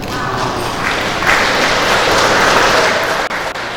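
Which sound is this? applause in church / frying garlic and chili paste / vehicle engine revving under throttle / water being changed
applause in church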